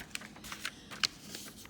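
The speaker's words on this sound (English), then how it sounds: "I'm gonna get another piece of paper here." Rustling and tapping of paper being handled at a desk, a few soft crisp crackles and taps over about two seconds, close and fairly quiet with no talking.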